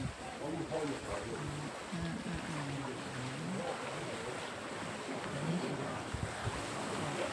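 Sea waves wash and rumble steadily along the seaside under wind noise, with a voice talking over the surf.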